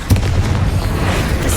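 Confringo, the explosive spell in Hogwarts Legacy, lands as a deep booming blast with a sharp onset and a rumbling tail, followed by a rough noisy burst.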